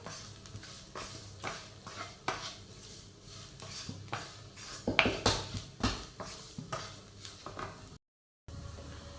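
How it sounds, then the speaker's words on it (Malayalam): Masala for egg roast being stirred and roasted in a pan, a soft steady sizzle broken by repeated scraping strokes of a spoon against the pan, with no talking. "മസാലയൊന്ന് നന്നായിട്ട് മൂപ്പിച്ചെടുക്കണം അതുവരെ നന്നായി മിക്സ് ചെയ്ത് കൊടുക്കാം"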